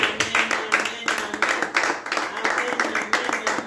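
A church congregation claps in a steady, rhythmic beat and applauds for the king, loud and close, with the rapid clap pattern repeating throughout and voices faintly mixed in.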